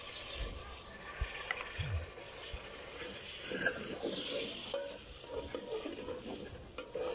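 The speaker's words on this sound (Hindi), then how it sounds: "तो अब हम इसे पानी का छिड़काव करेंगे इसके अंदर" Water sprinkled into potato beef keema sizzling in a pan gives a steady, close hiss and fry, with occasional stirring scrapes and light taps against the pan throughout.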